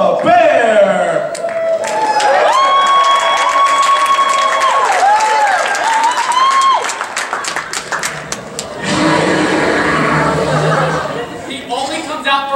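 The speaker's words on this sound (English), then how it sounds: "Please give a big round of applause to Rocky the Bear!" A show audience bursts into loud applause and cheering partway through, after a stretch of sliding whistle-like tones.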